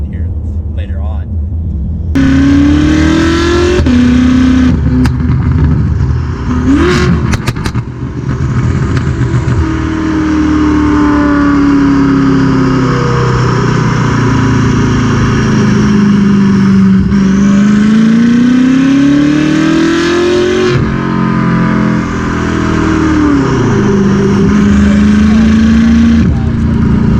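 BMW F10 M5 driving with continuous engine drone and exhaust note, pops and crackles mixed into the steady loud rumble as revs rise and fall, heard from inside the cabin.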